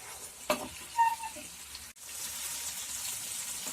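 Mutton chops fry on a high flame, a steady broadband hiss of hot oil with a couple of sharp clanks from stirring early on, then an unbroken sizzle that carries through to the end.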